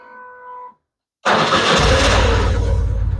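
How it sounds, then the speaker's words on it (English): A repaired starter on a BMW R1150 motorcycle turns over after a short electronic beep and a pause, and the engine fires at once into a loud, close, steady idle. "let's hear what the starter does this time"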